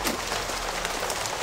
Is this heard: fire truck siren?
no